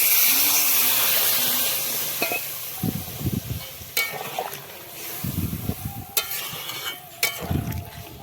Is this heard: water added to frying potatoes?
yes